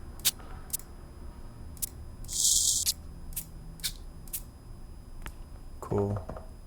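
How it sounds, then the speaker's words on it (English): Shaker percussion sample triggered in an Ableton Live drum rack: a string of short, crisp, hissy shakes at irregular spacing, one longer burst in the middle, and a brief tonal hit near the end, fairly close and clear. "Let's get a shaker in here."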